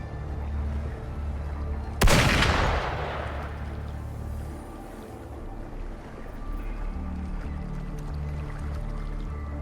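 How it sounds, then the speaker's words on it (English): Loud gunfire blast in the video game Wuthering Waves, a sharp burst with a ringing decay followed by a low rumbling ambient drone. "Gunfire! We've got intruders."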